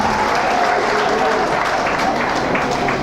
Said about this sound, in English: You can give yourself a round of applause as well.